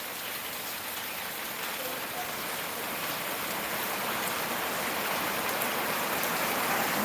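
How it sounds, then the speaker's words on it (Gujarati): Steady rain falls in Gir with a dense, even hiss that continues without a break and swells slightly toward the end. "અમારે જો વરસાદ પડી રહ્યો છે"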